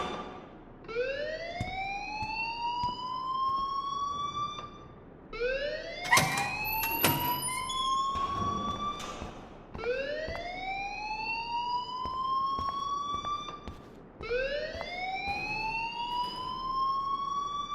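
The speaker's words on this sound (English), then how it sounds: "please turn off that alarm since that's your job" A school alarm in the Life Is Strange video game wails in repeated rising sweeps, each lasting about four seconds, loud and continuous, with a burst of clatter partway through and no talking.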